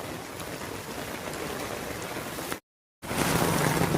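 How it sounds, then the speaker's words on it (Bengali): Heavy rain pours steadily onto a flooded street, a dense, loud hiss of drops on water and pavement with no voices, cut by a brief silent gap before the downpour resumes. "মারাত্মক বৃষ্টি হচ্ছে"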